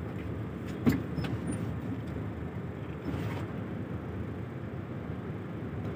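Heavy, slow-moving road traffic on West Service Road in Parañaque, heard as a steady low rumble of engines from inside a vehicle, with a brief knock near the start and no talking.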